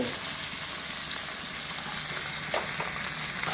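Tomatoes sautéing in a pan for a village-style fish curry, a steady close sizzle and crackle with a brief stirring scrape near the end and no speech.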